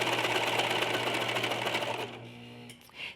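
A serger runs along the seam of a front-button skirt, whirring fast and steady for about two seconds before slowing and stopping, followed by faint handling sounds.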